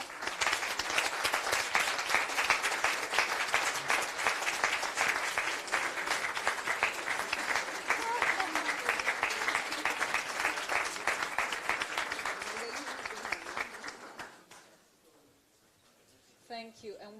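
An audience at a European Parliament publication launch applauds the authors with dense, sustained clapping that fills the room for about fourteen seconds, then dies away to near silence before a brief final swell.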